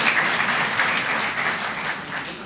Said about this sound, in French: Applaudissez-moi,